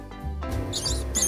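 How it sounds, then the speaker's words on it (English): A rat's high, thin squeaks come in short bursts over a low background hum, fairly close and moderately loud, with no talking. "Rat."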